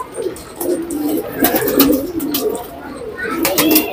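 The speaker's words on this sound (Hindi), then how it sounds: "कबूतर हैं यहाँ पर।" Old-breed pigeons kept in a dovecote coo in low, repeated throaty phrases, nearby and steady, with faint chirps and background noise around them.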